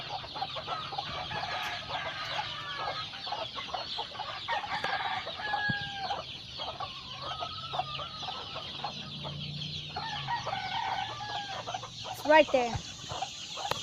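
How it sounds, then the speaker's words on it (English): Farm chickens cluck and murmur in an overlapping chorus, with a sharper squawk near the end and someone speaking briefly over them. "there's that chicken"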